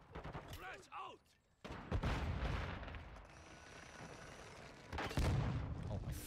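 A flashbang grenade detonates in Call of Duty: Modern Warfare II online multiplayer, a sudden loud burst followed by a ringing, dense wash of noise amid gunfire, with a voice talking briefly beforehand.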